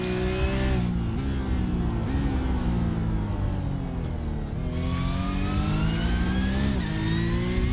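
A racing-game car with a 4-litre flat-six boxer engine revs hard past 8,000 RPM, loud and continuous, climbing through gears with brief dips between shifts.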